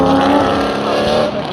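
A 400hp street drift car in Pro D1NZ at Mt Smart Stadium accelerates down the front straight, a loud, sustained engine roar close by with tire noise, alone without talk.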